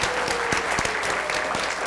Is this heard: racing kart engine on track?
no